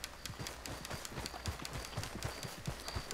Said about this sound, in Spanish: vamos a ver dónde está mi caballo